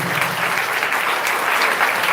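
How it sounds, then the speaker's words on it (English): A lecture-hall audience at a memorial lecture gives loud, sustained applause for a retired Indian Navy admiral. The clapping is dense and even throughout, forming a continuous wash of sound with no speech. "Huge round of applause for the gentleman over here who is gracing the occasion today."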